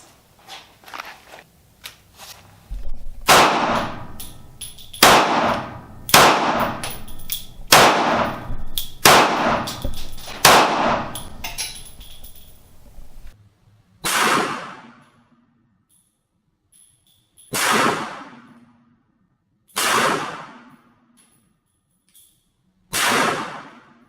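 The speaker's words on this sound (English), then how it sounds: "going to shoot his PMR 30 with 22 Maxi Mags" A PMR 30 pistol fires .22 Maxi Mag rounds at soft body armor in a torture test, with a quick string of sharp, loud shots followed by four single, spaced shots ringing out alone.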